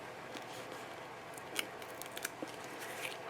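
Scissors snipping through craft foam, a few soft, quiet crisp cuts spaced irregularly over a low steady room hiss, close by and with no talking.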